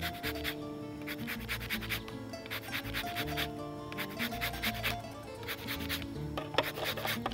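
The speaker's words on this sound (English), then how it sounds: "And then a zest of 1 whole lemon." A whole lemon is rubbed against a zester, giving close, rapid, rhythmic scratching strokes that continue steadily throughout.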